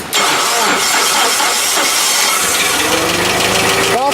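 An engine with a recently adjusted cam timing and valve tappets cranks and catches, then settles into a steady close, loud idle with a hissy running note.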